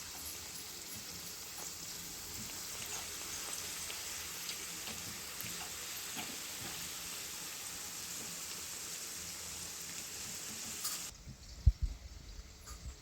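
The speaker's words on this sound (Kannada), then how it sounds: "ಫ್ರೈ ಆಗ್ತಾಯಿದೆ ನೋಡಿ" Karjikai dumplings deep-frying in hot oil, a steady dense crackle and bubbling hiss held evenly, ending with a couple of close knocks.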